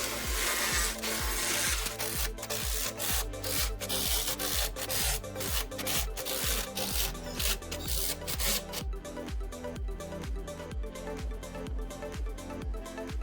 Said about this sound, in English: the cuts are pretty rough and required sanding after